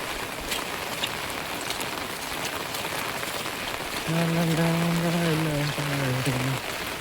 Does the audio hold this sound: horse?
no